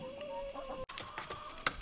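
Faint clucking from chickens at a distance, low and scattered over a steady background hum, with a brief sharp noise near the end.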